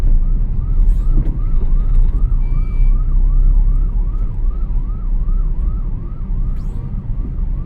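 An ambulance siren wails in regular rising and falling cycles on the Eastern Peripheral expressway in India, loud and close over the constant rumble of road traffic.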